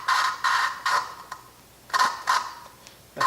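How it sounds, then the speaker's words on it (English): A valve is lapped by hand on a 1996 Honda Accord engine, heard as repeated short scratchy grinding strokes in bursts with pauses between them, close and fairly loud, with no talking. "sometimes it'll grind a little more, and I'll just grind it down again"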